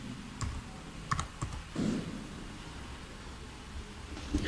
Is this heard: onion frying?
no